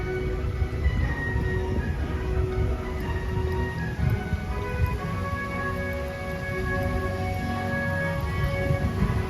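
The Wicker Man roller coaster at Alton Towers runs a test, heard far off as a steady rumbling, rattling rail roar with faint squealing tones. No talking over it.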